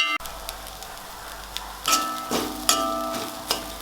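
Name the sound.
vegetables sautéing in a pan for veg salna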